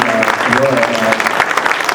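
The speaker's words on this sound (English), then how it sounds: "I really request each of you to give a big round of applause to Preeti" Audience applause at a school annual day prize distribution, a dense steady patter of clapping with some voices mixed in, filling the whole stretch at close range.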